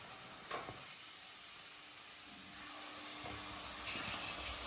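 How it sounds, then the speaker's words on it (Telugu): Soaked country chicken dropped into a hot pan for Telangana-style cooking, a soft steady sizzle and hiss that swells slightly midway, faint and without talk. "ఇప్పుడు మనం ముందు నానబెట్టుకున్న చికెన్ ఉంది కదా,"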